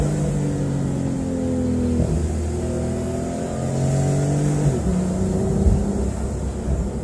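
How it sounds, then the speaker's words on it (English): A 2017 Porsche 911 Targa 4 accelerates to highway speed with the windows up, the engine note rising in repeated climbing sweeps between gear changes, loud and steady as heard from inside the cabin. "You can hear the turbo spooling up. Oh, what a great sound."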